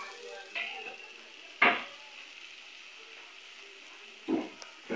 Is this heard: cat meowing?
no